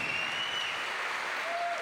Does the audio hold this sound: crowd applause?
yes